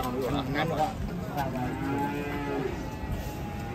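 A large European-breed cow lets out a long, low moo nearby, with faint background noise and no speech.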